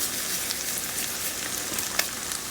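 Indian spices such as chili powder, chana masala and kasuri methi fry in hot oil, giving a dense, steady sizzle throughout with faint stirring clicks on top.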